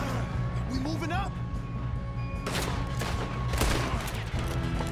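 Gunfire rings out in Red Dead Redemption 2 during a shootout in Valentine, a burst of shots with a passing car and a loud, steady game mix underneath, while players talk over it.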